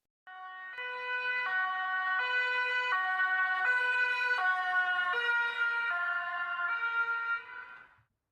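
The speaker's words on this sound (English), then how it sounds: "how it sounds when you stand in one place and the ambulance first approaches you and then moves away" Ambulance siren, a steady two-tone wail held for about eight seconds, swelling in as it approaches, then dropping in pitch and fading as it passes and moves away.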